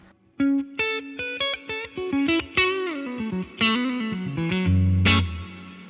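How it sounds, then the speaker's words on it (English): An electric guitar runs through a Walrus Audio Mako R1 reverb pedal set with pre-delay, playing a quick run of distinct notes whose tails bloom and linger, ending on a held chord that washes out. "of course we've got pre-delay if we want it"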